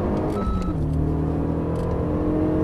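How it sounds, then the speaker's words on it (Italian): A Renault Megane RS 2.0 Turbo lapping the Monza circuit gives a brief electronic gear-shift beep over its loud, steady engine roar. "Il beep che sentite è il cambio marcia."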